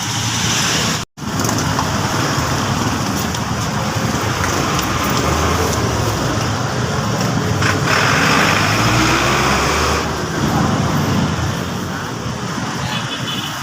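Steady, loud rain pours close by around a street vendor's stall outdoors, mixed with passing traffic noise, a continuous wash broken only by a brief dropout near the start.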